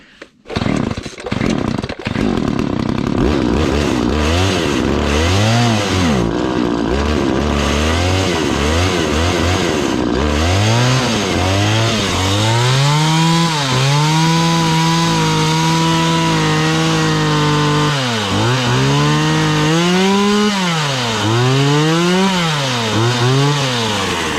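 A McCulloch Mac 3818 chainsaw engine runs loud and close on half choke, its pitch rising and falling in repeated revs and surges with a steady idle stretch in between.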